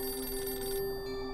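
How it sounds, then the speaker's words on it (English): A telephone rings in a house in New York State in 1986, a steady electronic bell tone that sustains and then drops off partway, with no voices. "when the phone rang."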